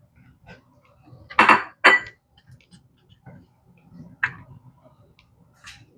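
Already sliced okra goes into a pot of Cameroonian okra soup, with a few close metallic clinks and scrapes of a spoon against the pot, two louder knocks early and lighter taps after, with faint talk in the background.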